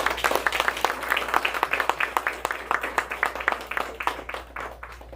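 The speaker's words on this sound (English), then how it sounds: "So a big round of applause for our patients" A small group claps for patients at a ribbon-cutting event for a walking rehabilitation machine, a few seconds of uneven, distinct hand claps that thin out and fade toward the end.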